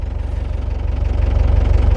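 A 2000 Mahindra Marshal with a 2.5-litre direct-injection diesel idles close by, giving a loud, steady low knocking throb whose even pulsing rises slightly over the two seconds.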